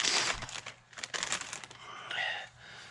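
A plastic bag crinkles and rustles close up as a trim part from a 1964 Jaguar MKII is pulled out of it, in several short bursts.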